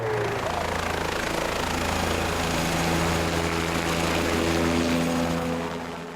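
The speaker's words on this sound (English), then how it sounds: "a helicopter swoops into the canyon to lift us back to civilization" A helicopter flies into the Grand Canyon, its loud, steady rotor and engine roar close and unbroken throughout.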